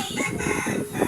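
Chicks cheeping and clucking while being fed, a dense, loud chorus of overlapping bird calls close by.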